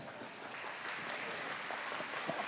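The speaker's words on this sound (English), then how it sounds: "Give yourselves a big round of applause." Steady audience applause at a musical ice-skating show, dense, continuous clapping at moderate volume, a few louder claps standing out near the end.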